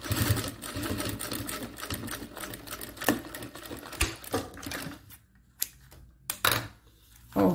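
Sewing machine stitching a zipper onto a pencil case, running in steady whirring bursts that break into short separate stitches and pauses toward the end, close and clear with no talk.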